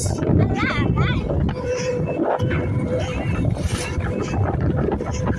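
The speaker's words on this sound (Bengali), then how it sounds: "এত বাতাস" Strong wind buffets the microphone in a constant rough roar while people talk underneath it.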